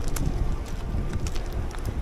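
Steady low rumbling buffet of wind striking a microphone at a wind farm, constant and fairly loud throughout with gusty fluctuations.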